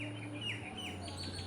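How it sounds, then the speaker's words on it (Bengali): Birds chirping near a seaside fish market at Digha under cloudy skies, a few faint, quick tweets over a low steady background hum. "পাখিগুলো কি সুন্দর উড়ছে দেখো।"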